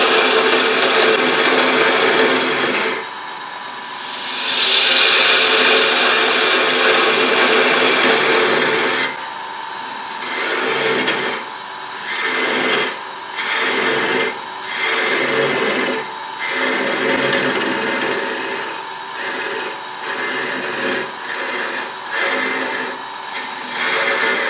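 Wood lathe spinning a small spin top while a tool cuts down the shank, a loud continuous motor whine with a repeated rhythm of scraping, rasping cuts that start and stop.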